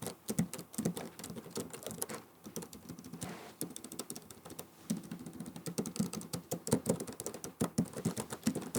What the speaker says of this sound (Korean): 얘도 저소음이기 때문에 키소음 한번 들려드리면요.